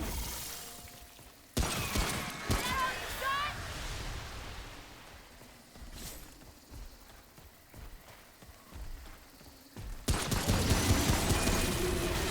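Cannon fire in the video game Remnant: From the Ashes, heard as a loud, dense burst of booming shots, then quieter rumbling, then a second heavy volley toward the end.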